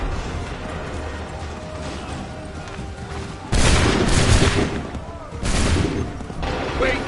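Muskets fire in volleys during a battle in Assassin's Creed III. Loud booming bursts of gunfire crack out twice over a rumbling background, with voices shouting in between.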